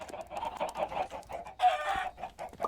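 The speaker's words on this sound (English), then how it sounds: "There should be no chickens running around my pen." Chickens in a pen in the Minecraft modpack FTB Infinity Evolved cluck in quick, choppy bursts, close and clear. A louder squawk comes near the end and no one talks.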